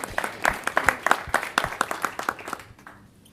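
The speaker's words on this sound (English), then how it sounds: "I think that deserves a round of applause" Live audience applauds for a few seconds, a moderate burst of clapping that thins out and fades quickly.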